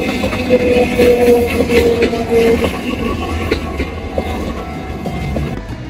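Train running on rails through Ena, Gifu, a steady rumbling rolling noise with faint clattering and a brief squealing tone, moderately loud and continuous without speech.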